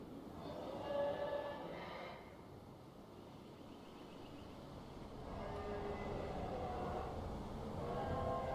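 A monorail train in the dinosaur park management game Jurassic World Evolution 2 rumbles along steadily at moderate volume, a continuous rail hum with faint squealing tones swelling and easing over several seconds.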